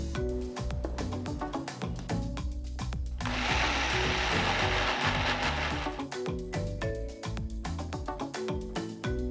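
A mixer grinder whirs for about three seconds, grinding soaked urad dal into batter for curd vada. The loud grinding rises over steady background music, then cuts off.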